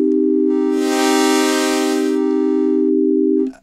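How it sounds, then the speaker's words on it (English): A loud, steady Arturia Pigments soft-synth tone holds for several seconds, blending from sine to square wave as its timbre brightens and buzzes with harmonics, then thins out before cutting off abruptly. "we're basically blending from sine wave through to a square wave"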